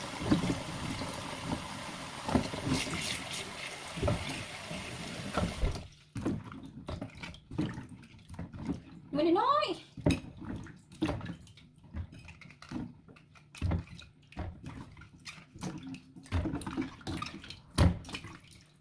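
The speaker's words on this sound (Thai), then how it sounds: "จะไปล้างแอปเปิลน้อยก่อนเลย" Apples are washed under running water from a tap, giving a continuous splashing and trickling stream with intermittent knocks and handling sounds, fairly close, with no talking.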